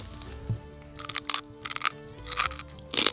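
Sharp crunching bites into a whole scorpion being eaten, several close, brittle bursts spaced irregularly over a few seconds with quiet pauses between chews.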